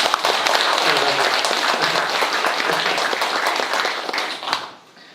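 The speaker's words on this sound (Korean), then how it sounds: "힘찬 격려의 박수 부탁드리겠습니다" Staff-training audience applauding in a hall to encourage company leaders, a dense, steady wash of many hands clapping that holds for several seconds and then fades out quickly.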